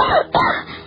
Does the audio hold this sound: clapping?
no